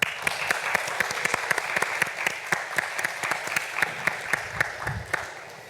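Audience applause at a youth platform event, a steady patter of many hands clapping throughout with sharp individual claps standing out, fairly close and continuous before tapering slightly at the end.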